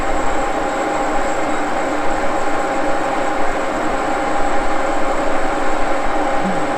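A milling machine with a rotary head cuts tough steel at 473 RPM, giving off a continuous dense grinding and whirring with a steady tone and no pauses or talk.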